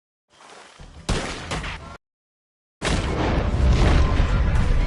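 Gunfire during a chaotic defence of a house in the video game Red Dead Redemption 2, loud booming shots and bursts in two dense stretches separated by a brief silence.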